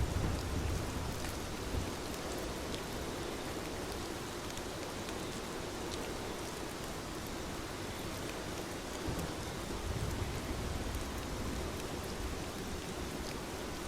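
A steady, heavy downpour from a thunderstorm lashing a small town at night, a dense even hiss of rain on surfaces with low rumbling beneath, continuous throughout.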